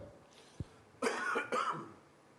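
Two harsh coughs in quick succession, close and fairly loud, after a brief quiet pause with a faint click.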